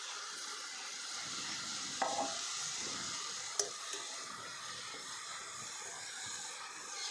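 Dry val bean pods being sautéed and stirred in a pan in a rural home kitchen, giving a steady soft sizzle with light scraping stirs and a couple of sharp clinks, no talking.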